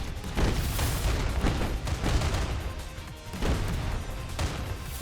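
Heavy recoilless rifle shots and impacts from the Mech Havoc mech combat game, given as a loud run of booming, crashing blasts close together. They hit in quick irregular succession with no pause.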